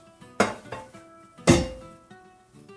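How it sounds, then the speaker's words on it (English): The metal lid of a pressure cooker is set onto the pot. Two sharp, close clanks stand out, with lighter knocks and scrapes between them in an otherwise quiet kitchen. "It's a pressure cooker. You're gonna cover it."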